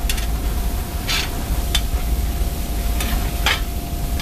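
Potatoes frying in a cast iron skillet, a loud continuous sizzle with occasional scraping stirs and spatula taps, close by and with no talking.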